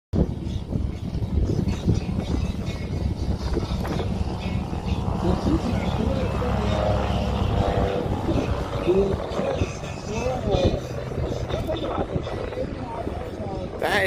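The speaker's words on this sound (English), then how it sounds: "That is probably the slowest roll I've ever seen out of an airplane." Airplane engine drones steadily through a slow aerobatic roll at the Wings Over Whiteside 2022 air show, a loud continuous rumble with a voice commentating over it.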